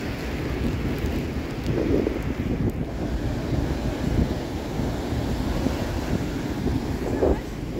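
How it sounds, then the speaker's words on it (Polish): Winter waves roll onto a Baltic Sea beach at Jastrzębia Góra near Lisi Jar, a broad, continuous roar of surf under gusty wind buffeting the microphone. "Zobaczcie, jakie fale piękne."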